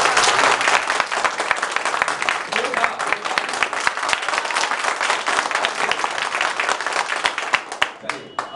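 An indoor audience of students claps at a farewell at a mobile-repair training institute, a dense, steady round of applause with voices talking over it.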